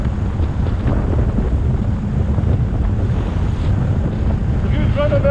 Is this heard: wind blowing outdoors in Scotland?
yes